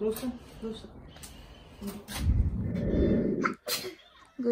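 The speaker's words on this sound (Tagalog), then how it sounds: "Bless you." A sneeze bursts out mid-conversation at home, close and fairly loud, with people talking before and after it.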